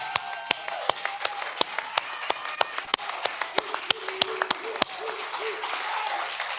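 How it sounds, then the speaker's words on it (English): A small group claps at a virtual convention youth day, with sharp individual hand claps ringing out irregularly over a soft background, close and fairly sparse rather than a full crowd. "Let us all give a round of applause to Ashley Sharpton"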